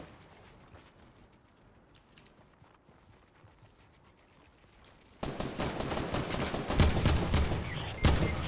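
Dense bursts of automatic gunfire in a Fortnite match crack out after a quieter stretch, the loudest shots clustered near the end.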